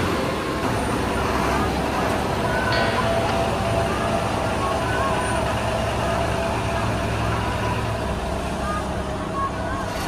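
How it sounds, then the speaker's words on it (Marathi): An interstate bus engine rumbles as the vehicle pulls away in rainy weather, with steady low road noise and background traffic throughout. "आता गाडी रवाना होते पुढच्या रूटसाठी"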